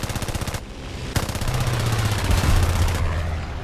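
Rapid aircraft machine gun fire rattles in a War Thunder air battle, with loud bursts of fast, even shots and a steady engine drone underneath, close and dominant throughout with no talking.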